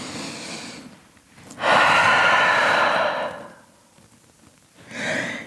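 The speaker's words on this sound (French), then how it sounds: "une immense respiration quand vous êtes de retour en chien tête en bas" A person takes a deep yoga breath while holding downward dog: a quiet inhale, then a long, loud, airy exhale lasting over a second, followed by a shorter breath near the end, with no talking.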